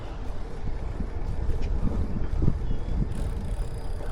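Road bike riding along the San Antonio Riverwalk trail on a morning ride, a steady rush of wind noise and low rolling rumble with faint mechanical ticks, no talking.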